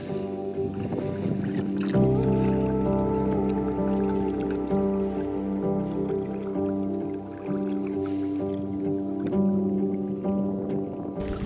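A canoe moves across Gull Lake early in the morning on a long northern expedition, with paddle splashes and water dripping close by over a steady low drone, and no voices.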